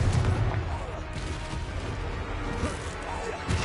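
Confringo spell blasts in Hogwarts Legacy combat create dense, loud booming and crashing impacts that roll continuously over the whole stretch, with game voices mixed in.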